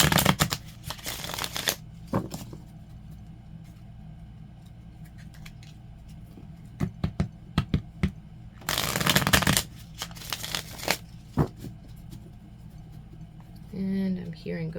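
Tarot deck being shuffled by hand during a card reading, with two bursts of crisp riffling and scattered card taps and soft handling noises between them, close and quiet.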